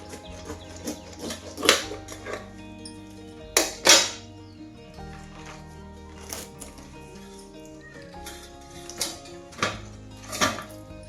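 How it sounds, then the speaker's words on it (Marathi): A knife cuts through a pineapple on a kitchen board, several sharp thuds and crunchy slicing sounds scattered among quieter handling noises, with faint fowl clucking in the background. "आता ह्या पायनॅपलचे असं मधून कापून घेते"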